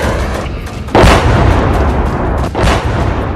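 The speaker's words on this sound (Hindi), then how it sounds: "पुल उड़ाए जा रहे हैं" Deep booming blasts from bridges being blown up in the Russia-Ukraine war: two heavy low thuds about a second and a half apart, loud and rumbling over a constant roar.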